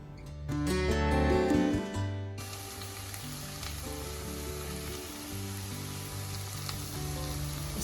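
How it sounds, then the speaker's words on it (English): Tomatoes sauté in a pan with bitter melon for an Asian egg and chicken dish: a loud burst of sizzle as they hit the hot oil, easing into a steady close frying hiss with faint stirring. "I am now adding some tomatoes, allowing it to cook until it's softened."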